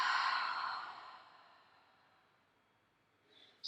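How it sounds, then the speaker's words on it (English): A single long exhaled breath during a yoga session, close and soft, starts strong and slowly fades away, with a brief breathy sound at the very end. "And exhale."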